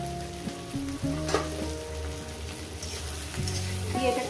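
Okra and potatoes fry with spices in a hot pan, giving a steady close sizzle with stirring noises throughout, and no talk.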